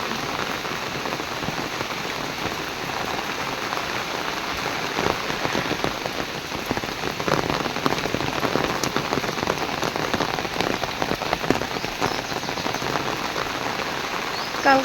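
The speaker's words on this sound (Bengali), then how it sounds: "দেখো কি পরিমাণ বৃষ্টি।" Heavy rain pours down steadily, a dense, loud, continuous hiss and patter of drops on surfaces that swells slightly midway and never lets up, with no voices heard.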